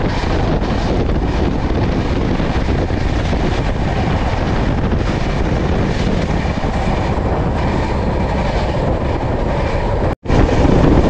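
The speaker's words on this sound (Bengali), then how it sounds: "এই মুহূর্তে কিন্তু আমরা নলপুর স্টেশন ক্রস করছি।" The Howrah–Digha Tamralipta Express roars through Nalpur station, a loud, steady rumble of wheels and rushing wind, heard from on board the train, with a brief dropout just before the end.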